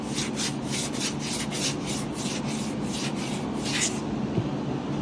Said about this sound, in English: We'll sand these down and see if they block out.